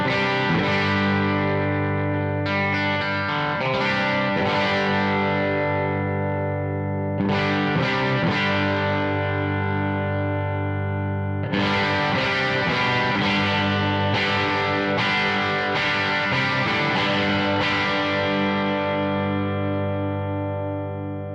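Electric guitar through a light Klon-style overdrive pedal rings out in sustained overdriven chords and riffs, thick and saturated, with pauses between phrases and no voice.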